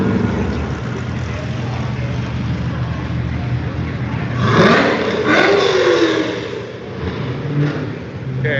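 A 1972 Corvette Stingray engine revs up sharply and roars past, a rising then falling exhaust note over steady background noise, at a car show in Carlisle.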